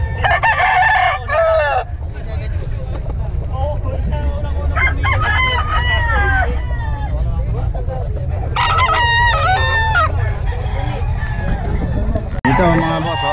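Roosters crow repeatedly amid clucking chickens at a gamefowl farm in Bocaue, loud and close, with people talking in the background throughout.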